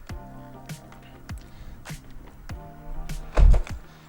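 Tiller of a Golden Buzzaround Carry-On travel mobility scooter folding down: a run of light mechanical clicks and ticks, ending in one louder, close clunk as it settles.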